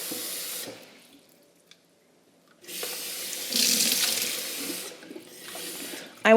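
Kitchen tap water runs in bursts for homemade bagel dough, a broad hiss that starts, stops and restarts, loud and close with no talking.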